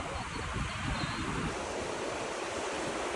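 Ocean waves on a Tenerife beach wash in as a continuous, loud surf roar with broad hissing spray and no break, close to the shore.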